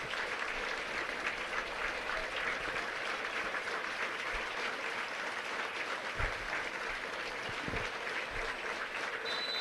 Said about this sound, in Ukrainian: під акомпанемент е, оплесків трибун